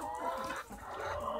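Laying hens cluck and murmur close by in a continuous, busy chatter, with no talking.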